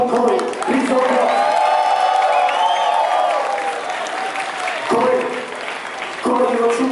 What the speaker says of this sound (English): everybody please now give a very, very big applause to my super strong opponent Corey.